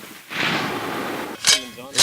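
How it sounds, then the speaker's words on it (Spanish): Gunfire sound effect from a 7.57 Mauser rifle used in game sound design: a sustained broadband whoosh of a projectile cutting through the air, followed by two sharp loud cracks near the end. "Esto es el proyectil surcando el aire."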